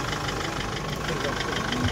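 A used 2003–2004 Sprinter van idles up close at an Osh car market, its engine a steady, dense rumble throughout with voices around it.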